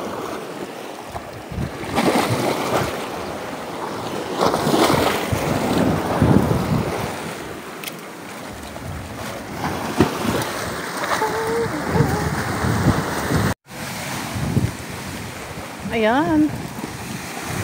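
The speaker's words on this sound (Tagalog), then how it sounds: "Medyo nga maalon." Wind buffets the microphone over steady surf and breaking waves at the seashore, loud and continuous, with a brief dropout and faint voices near the end.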